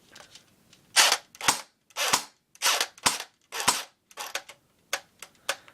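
An Echo1 Red Star AK47 airsoft gun dry fires on semi-automatic, giving about ten sharp separate snaps at a quick, slightly uneven pace, close and crisp with no voices.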